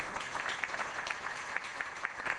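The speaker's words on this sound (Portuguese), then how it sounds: "já está aplaudindo" A seminar audience at a Brazilian cinematography conference session on time code applauds, the clapping soft and somewhat distant, a steady patter of many hands with a few sharper claps standing out.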